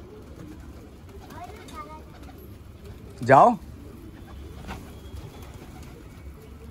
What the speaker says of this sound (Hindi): कबूतर मैंने जो है बिठा लिया